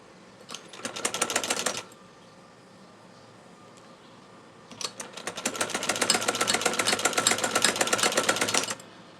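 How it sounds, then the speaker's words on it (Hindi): Sewing machine stitches a circular seam on a baby girl's frock, a short rapid burst of mechanical ticking, a pause, then a longer steady run. The sound is close and fairly quiet, with no talking. "इसी के मुताबिक अब हम सर्कल को स्टिच कर लेंगे।"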